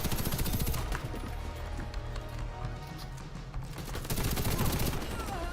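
Rapid bursts of F2000 assault rifle fire in the online shooter Warface, loud and close, with dense repeated shots through most of the stretch and a brief lull in the middle.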